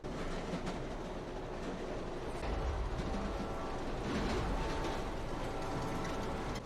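A train in the film Unbreakable (2000) rumbles along the tracks, loud and close, with a steady roar and faint clickety-clack rhythm swelling slightly as it passes.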